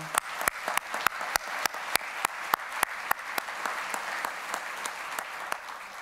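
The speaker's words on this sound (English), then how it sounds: "if I just give one more applause to all the teams who participated this year." Audience applause at a conference closing plenary in Brussels, a steady run of fairly close, distinct hand claps at a quick, even pace, moderately loud with no speech over it.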